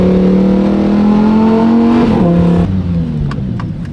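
Up close, a Lamborghini's twin-turbo V8 holds a loud, rising rev, then drops off abruptly into a rumbling idle punctuated by a few sharp exhaust pops and crackles.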